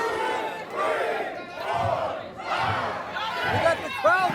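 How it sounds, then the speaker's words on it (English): Wrestling arena crowd chants loudly in unison, counting aloud in rhythmic surging bursts that echo through the venue. "And the crowd has come up to a count of 13."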